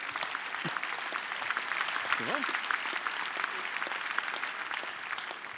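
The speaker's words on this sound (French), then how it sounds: "vous pouvez vous applaudir" Applause from a large audience at a French public event, dense continuous clapping that fills the space, with a speaker's voice briefly heard over it.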